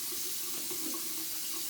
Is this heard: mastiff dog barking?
no